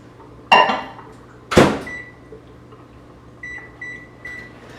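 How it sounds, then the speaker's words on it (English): A microwave oven heating honey in a kitchen: two sharp clunks of the door or buttons, then a low steady hum with a few short beeps. "I'm just gonna kind of take a little cheat and put it in the microwave"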